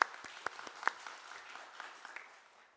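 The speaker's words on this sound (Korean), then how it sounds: "우리 축복의 박수 부탁하겠습니다." Faint congregation applause at a Korean Sunday church service, scattered distinct claps from a distance that thin out and fade over a few seconds.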